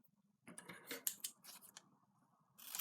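Scissors snip through a strip of sellotape in a quiet room, a short run of crisp close cuts followed by a louder final snip and rustle.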